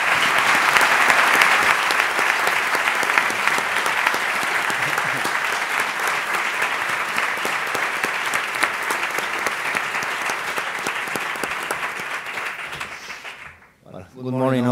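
An audience at a business lecture gives a long, dense round of applause to welcome a speaker, loud and sustained before fading out near the end, when a voice begins to speak.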